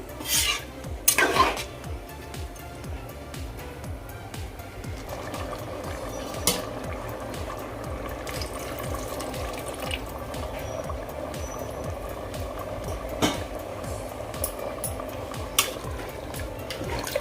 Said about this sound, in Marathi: आपल्याला यामध्ये आणखी पाणी ॲड करावं लागेल